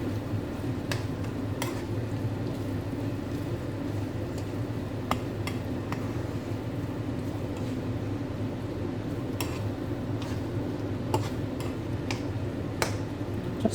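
Diced potatoes for a breakfast hash fry gently in a pan, giving a low continuous sizzle broken by scattered small pops and clicks.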